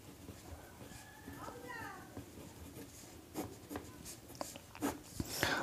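A pen or pencil scratches across paper while a maths solution is worked out, a steady soft scraping with brief scribbles and taps, faint voices and room noise murmuring underneath.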